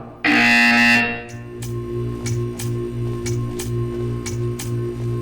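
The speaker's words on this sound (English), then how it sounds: "When you hear the buzzer, stare at the art." A loud electronic buzzer in Portal 2 blares for about a second, then fades into a steady rhythmic ticking with short pulsing beeps repeating at regular intervals.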